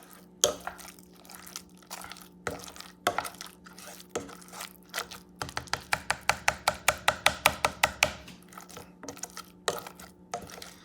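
Sweet plantains are mashed in a bowl with soft, wet, squelching thumps, first at a slow pace, then in a quick run of even strokes, then slowing again.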